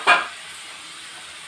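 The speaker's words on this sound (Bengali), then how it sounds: "এবার আমি চিকেনটাকে দিয়ে দেবো।" Marinated chicken hits a hot pan of sautéed ginger and garlic, giving a brief loud splash of sizzle that settles into a steady, softer frying hiss.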